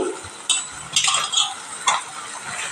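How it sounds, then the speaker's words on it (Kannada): Flattened rice poha tipped into a pan and stirred, giving a few close scraping and rustling bursts with light clinks over a soft background hiss. "ಅವಲಕ್ಕಿ ಹಾಕಿ ಮಿಕ್ಸ್ ಮಾಡ್ಕೊಡ್ತೀನಿ"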